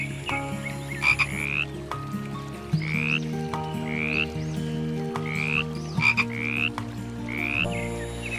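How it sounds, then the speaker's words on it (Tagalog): Frogs croak in a dense chorus, with repeated rising calls over a steady layered drone of other frogs, close and continuous. "Maya-maya pa ay dumating si Apolloning, ang pinaka matandang palaka sa kanilang lahi."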